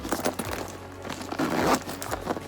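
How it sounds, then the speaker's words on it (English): Plastic wrapping crinkles and rustles as it is pulled off a Louis Vuitton Petite Malle Souple handbag, with close, quiet irregular crackles and scrapes over a couple of seconds. "And let's remove this plastic."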